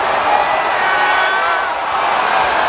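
Loud baseball stadium crowd at Angel Stadium during an Angels versus Blue Jays game, a dense, steady roar of cheering and shouting that holds for the full stretch without a break.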